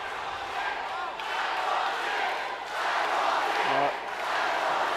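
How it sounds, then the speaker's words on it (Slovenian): Crowd cheering at a Slovenian MMA fight, a broad continuous roar of fans filling the arena, swelling and easing across the moment with a commentator's voice briefly audible. "Zelo lepo navijanje"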